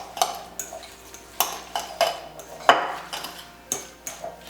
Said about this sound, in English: I'm just going to get a fork, and then going from the outside in, trying to distribute the wet ingredients with the dry ingredients